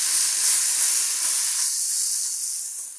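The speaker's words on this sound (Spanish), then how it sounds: "Lo vamos a mojar en la salsa y lo vamos a poner a dorar aquí" Guajillo-salsa-dipped bread sizzles steadily in a hot pan as it browns for pambazos, a loud, close, continuous frying hiss that eases slightly toward the end.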